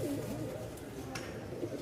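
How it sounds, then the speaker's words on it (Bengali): Low, steady cooing of Giribaz pigeons at a pigeon market in Mirpur-1, Dhaka fills the short stretch, a continuous throaty murmur with a faint rustle of movement. "কবুতরগুলো দেখেন কি পরিমাণ ছটফট করতেছে"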